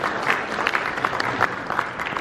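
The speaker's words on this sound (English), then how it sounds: "Give yourselves a round of applause." Wedding guests at Disney's Wedding Pavilion at Disney World applaud, a soft, steady patter of many hands clapping at moderate distance, with scattered louder claps and no speech over it.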